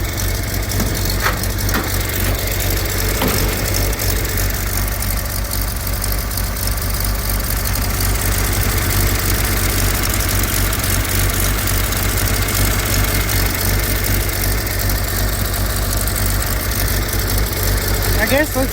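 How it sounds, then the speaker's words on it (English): A 1929 Buick engine, started on a heavily discharged battery, runs at a steady idle. The low, even rumble is loud and close and continues unbroken for the whole stretch. "I got it to run on a battery that's discharged heavily"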